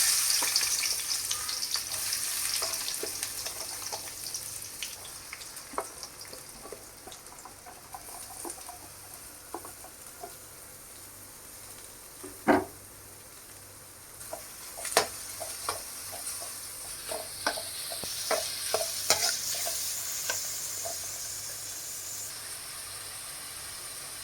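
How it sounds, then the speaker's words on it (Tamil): Onions sizzle in hot oil in a kadai, a steady frying hiss with occasional sharp clicks and scrapes of stirring, growing busier toward the end. "இப்போ முதல்ல வெங்காயத்தை போட்டுடலாம்."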